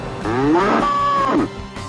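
A cow on a small urban farm gives one loud, drawn-out moo with a rising then falling pitch, close by and alone, followed by quiet background.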